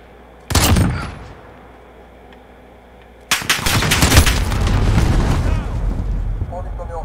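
Video game gunfire in Call of Duty Modern Warfare: a sharp burst of shots, a lull, then a long sustained volley of loud automatic fire with explosive booms, close and dense.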